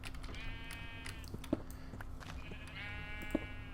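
Sheep in the Minecraft SevTech modpack bleat twice, each a wavering game-sound bleat of about a second, over a steady low hum with faint clicks.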